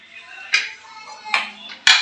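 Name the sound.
opening the pressure cooker lid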